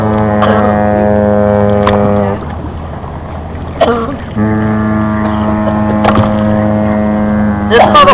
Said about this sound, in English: What's this guy gonna pull this giant boat right in front of us?